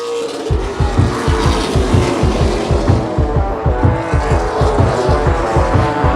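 Race cars at Wiscasset Speedway roar past in a loud, continuous engine drone near the end of a qualifier, with rhythmic revving pulses and tire noise and no speech.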